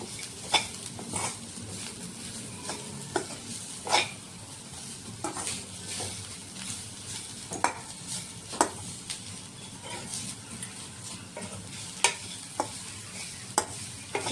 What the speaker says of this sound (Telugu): సో ఇదంతా కూడా సిమ్లో పెట్టుకొని మిక్స్ చేసుకోవాలి.